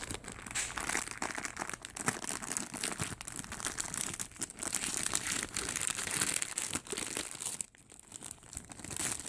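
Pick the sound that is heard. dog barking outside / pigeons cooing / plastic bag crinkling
plastic bag crinkling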